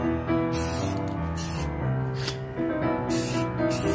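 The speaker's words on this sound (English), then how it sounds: "So now, I'll spray paint it black." Bursts of hissing spray sound repeatedly over steady background music, each lasting about half a second to a second.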